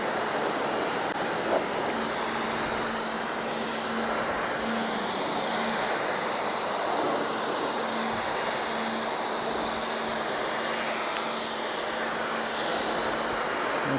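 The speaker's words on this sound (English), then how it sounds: "Let's give the glass a really good blast off with the deionized water." A jet of deionized water blasting the glass of a Tesla Model 3 during a wash, a steady, dense hiss that runs unbroken and close throughout.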